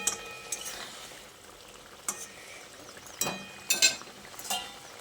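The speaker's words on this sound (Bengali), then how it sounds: "তারপর আরও একবার মাছগুলোকে দিয়ে এইভাবে নেড়ে চেড়ে মিশিয়ে দিচ্ছি।" Bata fish pieces are stirred in a pan of sizzling curry, with a soft frying hiss under several sharp clinks and scrapes of a utensil against the pan.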